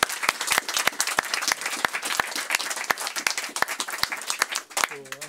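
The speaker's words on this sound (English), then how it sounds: "Let's give him a round of applause for being here today." A talk audience gives a round of applause to an author, a lively crowd clapping with many sharp, distinct hand claps close by, sustained throughout and ending as a voice begins to speak.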